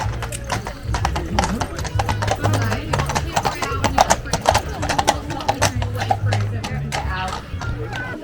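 Steady clip-clop of a horse's hooves trotting close by at a wedding, rhythmic and continuous, with people talking over the top throughout.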